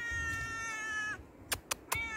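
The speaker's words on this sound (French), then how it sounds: "Il y a un chat sur ma route." A cat meows close by: one drawn-out, wavering meow, then a pause broken by a few short clicks, and a second meow starting at the end.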